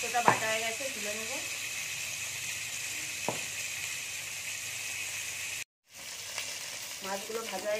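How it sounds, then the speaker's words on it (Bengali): Rohu fish pieces fry in oil with a continuous close sizzle and crackle, briefly cut to silence partway through, while someone speaks intermittently over it. "মাছগুলো ভাজা হয়ে গেছে, তুলে নেব।"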